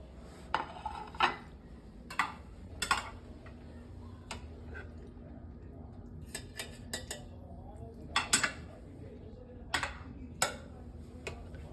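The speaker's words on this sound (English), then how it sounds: "You notice I'm dispensing with an enormous spoon because all the deliciousness is in the pan." An enormous spoon clinks and scrapes against a pan while scooping garlic butter scallops, with a dozen or so sharp metallic taps scattered irregularly over a quiet background.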